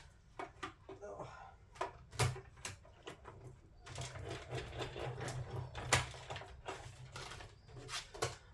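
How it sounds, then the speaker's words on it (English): A die cut and emboss machine runs with embossing plates fed into it, giving off irregular mechanical clicks, clunks and whirring bursts at close range. "my cut and emboss machine. So I'm just popping it in."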